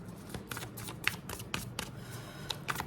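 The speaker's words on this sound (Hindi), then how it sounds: "लास्ट शफल और आई टेक इट आउट।" A deck of tarot cards shuffled by hand, with a steady run of soft papery riffles and flicks, close and quiet.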